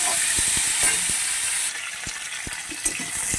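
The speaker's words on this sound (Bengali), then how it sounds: "সমস্ত সবজিগুলোকে দিয়ে দিলাম এবার ভালোভাবে ভেজে নেব" Mixed vegetables frying in hot oil in a pan give a loud, steady sizzle close by, with spoon scrapes and taps as they are stirred; the hiss eases slightly partway through.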